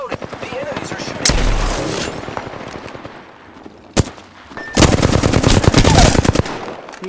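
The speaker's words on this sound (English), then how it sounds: "The enemies are shooting!" Enemy gunfire in Apex Legends: loud rapid automatic bursts and single sharp shots, with sustained volleys near the start and toward the end, mixed with in-game combat noise.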